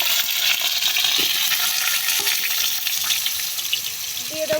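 Potatoes frying in hot oil in a wok give off a loud, steady sizzle and hiss throughout, with a few light metallic clinks near the end.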